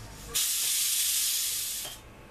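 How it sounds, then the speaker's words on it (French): A loud, steady hiss of steam rushing out of a pressure cooker with its whistle removed for about a second and a half, starting abruptly and then cutting off, with faint background noise around it. "Une fois que toute la vapeur est sortie, on va ouvrir notre cocotte minute."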